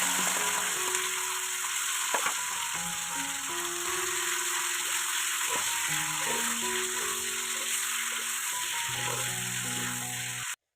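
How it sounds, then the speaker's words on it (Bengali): Meat fries in a pan of oil with a continuous close hiss and sizzle, while tonal background music with shifting notes plays over it the whole time. "আমি এই যে মাংস ভাজা বাইছি"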